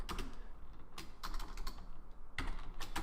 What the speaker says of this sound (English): So now I'm going to go over here and I'm going to type